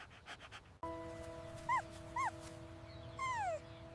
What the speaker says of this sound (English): The little puppy looked frightened and completely lost.